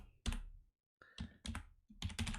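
Fast bursts of typing on a computer keyboard, close and fairly loud, in three or four clustered runs of key clacks separated by short pauses.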